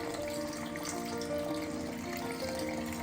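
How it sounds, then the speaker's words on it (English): One cup of water is poured into boxed cake mix, a steady close trickle and splash running unbroken throughout with no voices. "Once you are done measuring your water, add it to your cake mix."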